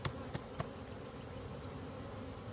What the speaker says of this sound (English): There's some bees that are still left in here. Most of them will come out.